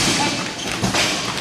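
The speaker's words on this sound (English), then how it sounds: "I heard a thud, but it seems it was just the back of the net." A hockey puck hits the back of the net during a summer league draft final game, giving one dull thud amid the steady wash of rink noise.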